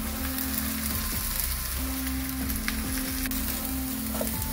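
Onions and garlic frying in a pan give a steady, close crackling sizzle that holds evenly throughout, with no voices.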